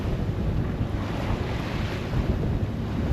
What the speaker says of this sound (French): Et il y a de plus en plus de vagues, hein, quand même.